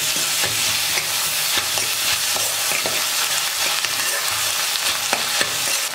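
Onions with a spoonful of ginger garlic paste fry in a pan for a paneer gravy, giving a loud, steady sizzle broken by frequent scraping stirs close by.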